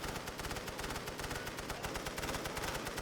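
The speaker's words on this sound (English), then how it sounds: "The MG alone is doing quite a bit of work" Rapid machine-gun bursts in the World War One strategy game Great War Western Front, a dense, steady rattle of repeated shots lasting the whole stretch, loud and continuous with no talk over it.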